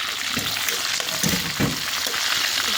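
A few dried red chillies fry in hot oil with bay leaf and whole cumin, giving a close, steady crackling sizzle with small popping bursts throughout.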